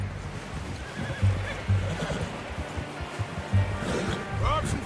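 A horse in a video game whinnies with a rising, shaky call near the end, amid hoof clops and muffled voices, over an ambient outdoor backdrop.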